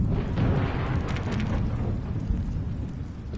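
Low rolling thunder with a steady rain-like wash in The Stanley Parable video game, a continuous broad rumble that stays loud and fills the whole stretch with no voices over it.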